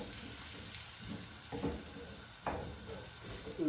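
Chunky red onions coated with garlic are pushed around a pan, giving a soft, quiet sizzle under a few gentle scraping strokes at intervals, close by and without speech.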